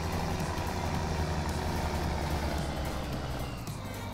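Tractor engine in the BeamNG Drive driving game, a steady low diesel drone idling or running at constant revs, loud and unbroken with no talk.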